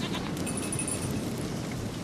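Goat bleating in The Witcher 3 video game, a few short wavering cries over a steady background of game ambience, fairly faint.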